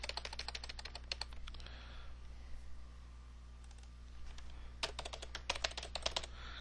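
Keystrokes typed on a computer keyboard come in two bursts at the start and end, with a quiet stretch between them and a steady low hum underneath.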